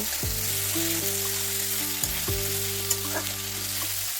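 Onions, chopped tomatoes and spices fry in a pan for ghugni and get stirred, a steady close sizzle over a bed of music, with a couple of small utensil knocks.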